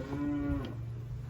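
A cow lets out a single loud, close moo on a farm where calves are being treated for pneumonia, the call holding steady for about half a second before trailing off into a low hum.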